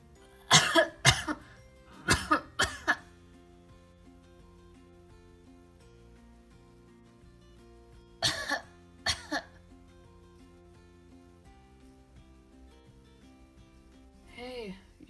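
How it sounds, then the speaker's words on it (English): Several sharp coughs in quick bursts near the start, a pair more later, then a faint breathy sound at the end; quiet between. "Heard you coughing all night."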